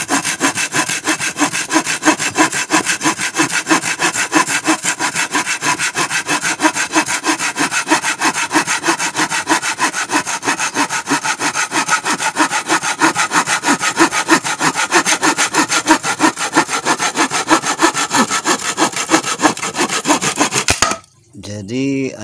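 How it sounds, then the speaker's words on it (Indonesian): A folding bushcraft saw cuts through kaso wood in steady, close, rhythmic back-and-forth strokes, rasping loudly for about twenty seconds before the sawing stops abruptly. "ketika saya menggergaji kayu kaso ini, sama sekali gergajinya tidak macet"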